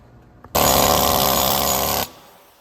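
A power tool whirs steadily for about a second and a half, loud and close, while it grinds rust off the rear brake hub of a Honda Ridgeline, then cuts off abruptly.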